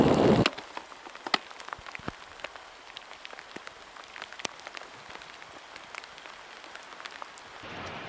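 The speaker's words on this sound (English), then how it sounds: "Got some rain on me." Rain falls steadily during an Arctic Circle bike tour, a soft constant patter with scattered sharper drops ticking nearby on surfaces, heard alone without talk.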